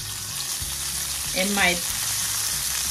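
Garlic confit in oil frying in a pan, a steady close sizzle throughout with a brief brighter swell of crackling midway, a faint voice nearby.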